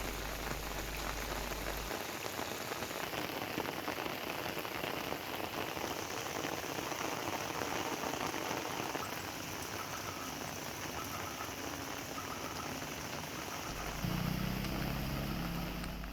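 Continuous rain falls steadily on surfaces, a dense even hiss of drops at moderate level with no breaks and no voices.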